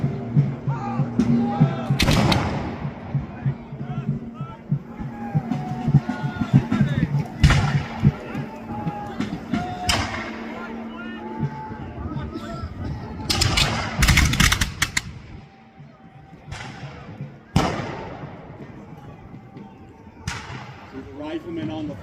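Muskets fire during a Battle of New Garden reenactment in Greensboro, North Carolina. Sharp, scattered shots and occasional clustered volleys crack near and far while a narrator speaks throughout.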